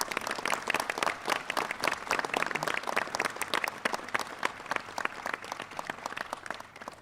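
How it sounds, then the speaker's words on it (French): An audience at a mayor's New Year address applauds the newly elected young council members, many people clapping at a brisk, uneven pace at moderate distance, tapering slightly toward the end. "Ce que je vous propose, c'est de les applaudir,"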